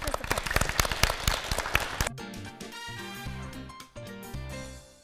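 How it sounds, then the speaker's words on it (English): An audience at a televised 7th-grade English Olympiad quiz show applauds the participants, a dense burst of clapping for about two seconds before it breaks off into music. "please give a warm round of applause for all the participants"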